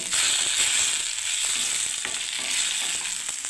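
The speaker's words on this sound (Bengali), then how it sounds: "দেখুন বন্ধুরা, আমার বেগুনগুলো ভাজা হয়ে গেল বন্ধুরা দেখুন।" Eggplant and onion fry in a pan with a dense, close crackling sizzle and brief stirring scrapes throughout.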